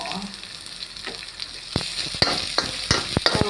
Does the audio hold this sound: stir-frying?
yes